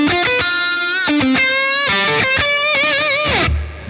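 An electric guitar played through a MezzaBarba MZero overdrive pedal with reverb and delay added rings out a lead line of sustained, bent, gritty notes with trailing echoes, loud and alone before it drops away near the end.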